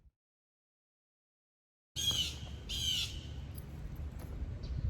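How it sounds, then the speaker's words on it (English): A bird, likely a crow, caws loudly outdoors near a bayside spot in Panama City Beach, two harsh calls in quick succession after a silent start, then fainter chirps over a steady outdoor hum. "I seriously need that bird to shut up."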